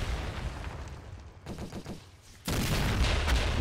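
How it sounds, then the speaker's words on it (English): Automatic grenade launcher pounding a building in a Grozny battle mod of a war video game, rapid bursts of blasts and crackling debris, loud and close, with a denser barrage in the final second. "That's our automatic grenade launcher working the building."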